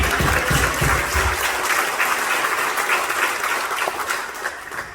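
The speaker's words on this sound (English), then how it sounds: "Help me give her a round of applause real quick." Audience applause after a wedding toast, a dense, steady wash of clapping across the room that fills the whole stretch and fades slightly near the end, with no talking over it.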